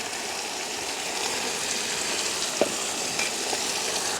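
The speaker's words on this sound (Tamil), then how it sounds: "இறைச்சி எங்களுக்கு பொரிஞ்சோன்ட்ருக்குது" Meat fries in a pan in a village kitchen, a steady close sizzle with a few faint clicks and stirring knocks.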